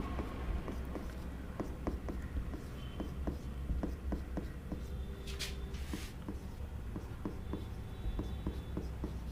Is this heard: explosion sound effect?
no